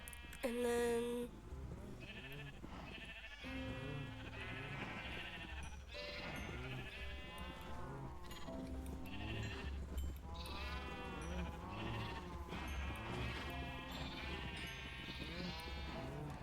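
Sheep on a farm bleat in a near-continuous chorus, some calls close and others farther off, overlapping one after another over steady background noise.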